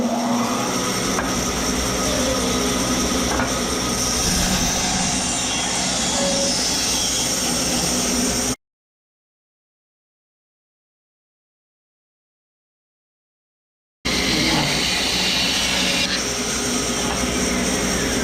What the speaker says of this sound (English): I'll take these to the bandsaw again.